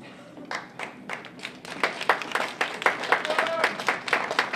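Scattered clapping from an audience at a tango festival competition in Moscow builds into a steady patter of applause, moderately faint, with some voices mixed in.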